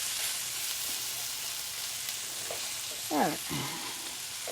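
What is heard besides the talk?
stirring curry frying in a pot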